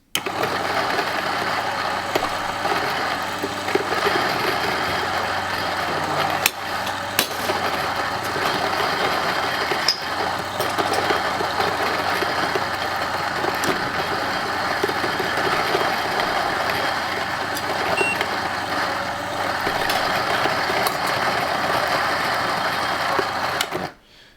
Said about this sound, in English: I set the grinder to pretty coarse